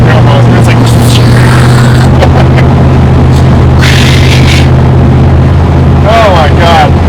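A 383 small-block Chevy engine in a muscle truck runs loud and close with a heavy, steady droning roar and a breathy intake rush, with faint voices in the background.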